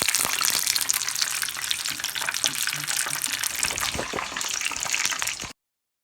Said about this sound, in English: then I'm going to fry my second, do the second kind of chip